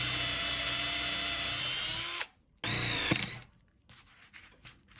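Power drill driving M6 threaded inserts into wood: a loud, close motor whine runs steadily for about two seconds, stops, then spins up again briefly before winding down into softer scraping and rattling.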